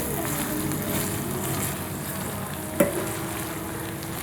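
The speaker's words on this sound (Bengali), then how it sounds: "তো এটা ননস্টপ নাড়তে হবে" Rohu fish roe cooking in a pan over medium heat, stirred steadily, giving a soft continuous sizzle with faint scraping and one brief sharp clink partway through.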